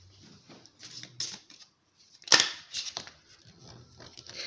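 Tarot cards shuffled and laid down on a table, a series of soft papery slides and taps with one sharper snap of a card slapped down in the middle, close and fairly quiet.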